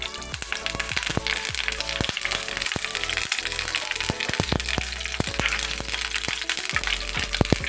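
Cloves, cardamom and curry leaves frying in hot oil, a dense continuous sizzle with frequent sharp crackles and pops throughout, close and steady with no voices.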